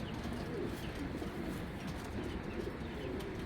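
Giribaz pigeons at a farm coo softly in a low, steady murmur, blended into a dense, continuous background hum, fairly faint and with no speech.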